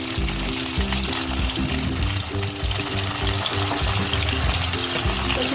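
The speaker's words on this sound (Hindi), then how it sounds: "और चिकन को अच्छी तरह इसमें फ्राई कर लें।" Chicken fries in hot oil with golden onions in a pan, a loud steady sizzle with spattering crackle throughout and faint rhythmic clanking beneath.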